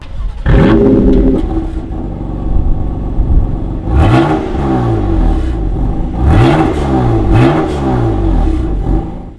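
Loud, close BMW M4 GTS engine with a titanium exhaust revving hard several times, the pitch sweeping up and dropping back with a raspy, throaty exhaust roar.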